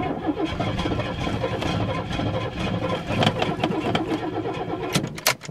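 A Chevy S10 pickup engine cranks and runs with a dense, steady mid-pitched rumble throughout, loud and close, ending in a few sharp clanks.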